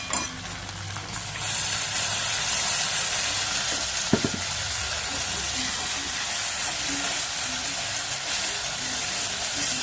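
Tomato and green chili paste hits a wok of well-fried onion, ginger and garlic, setting off a loud, steady sizzle that runs throughout, with one brief clunk of the pan partway through.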